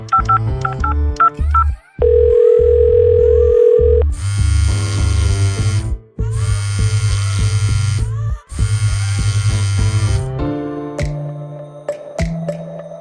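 Tones from a cell phone being dialed: a short run of beeps, a steady tone, then several long buzzing electronic tones with gaps between them, loud and close.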